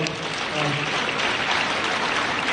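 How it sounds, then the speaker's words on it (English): Steady applause fills a banquet hall at an urban league fellowship dinner, a dense, even wash of clapping from a large seated crowd that holds for a couple of seconds. "Just give them a round of applause."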